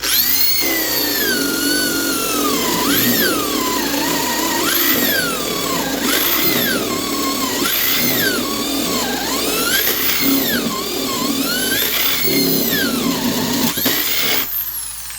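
A cordless drill in high gear whines loudly and continuously, its pitch repeatedly sagging and recovering as a high-speed steel spade bit bites into the material.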